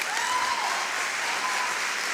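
Church congregation applauding during a sermon on the Holy Spirit, a dense continuous round of clapping filling the room with a faint tonal hum running under it and no talking.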